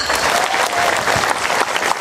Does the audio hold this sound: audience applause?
yes